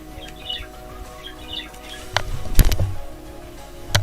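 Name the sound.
pet parrot chirping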